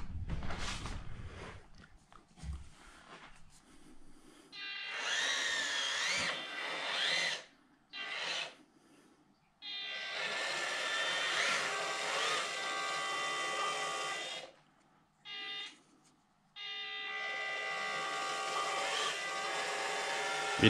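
A ROCHobby Katana 1/18 RC crawler's small electric motor whines in sustained bursts as it climbs a 42-degree slope, with several short pauses between runs and no talk.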